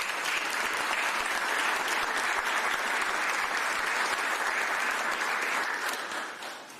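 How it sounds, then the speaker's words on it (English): Audience applause at a city officials' press event on a tentative agreement with AFSCME, a dense steady clapping from a crowd that holds for several seconds and then begins to fade near the end. "That deserves a round of applause"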